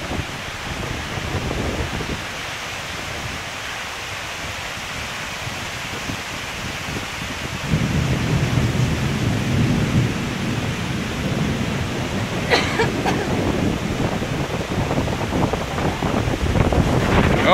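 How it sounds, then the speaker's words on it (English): Gusty wind roars and buffets the microphone during a thunderstorm, growing louder partway through, with sideways-blowing rain hissing underneath. "Rain's blowing sideways."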